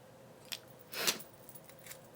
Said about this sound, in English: I need to grab my scissors so I can cut this ribbon